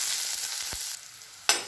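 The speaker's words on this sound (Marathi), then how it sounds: "कांदा गुलाबी रंगावर परतून घ्यायचा, गरजेनुसार गॅसच्याच कमी जास्त करायची।" Chopped onion sautéing in hot oil with mustard seeds and cumin in a pan for potato bhaji, a steady close sizzle with a couple of low stirring knocks and a brief louder burst near the end.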